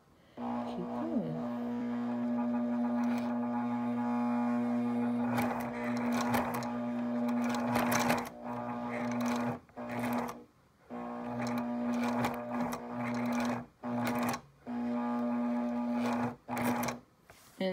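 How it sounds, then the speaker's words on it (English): Sewing machine running steadily while stitching closely spaced lines of matchstick quilting, a continuous motor hum with short pauses between passes, close and loud, with a voice speaking briefly. "And then I just sew a few lines close together."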